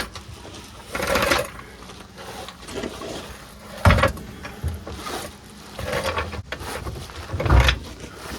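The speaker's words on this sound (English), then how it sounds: "I'm gonna get the floor jack ready." Metal floor jack being positioned and set under a car for dropping the fuel tank, heard as intermittent clunks, scrapes and rattles of the jack rolling on a garage floor, fairly close, with no talking.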